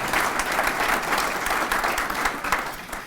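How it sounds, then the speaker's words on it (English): An audience applauds steadily after a speaker introduces the president and CEO of Festival Foods, a dense, even wash of many hands clapping that carries at full volume for a few seconds without pause. "Yeah, you can applaud for that."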